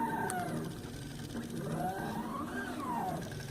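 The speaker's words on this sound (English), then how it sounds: "You can see the little stepper motors there doing their thing." Small stepper motors driving a homemade CNC drawing machine, whining in rising and falling tonal sweeps over a steady low buzz, fairly faint and continuous.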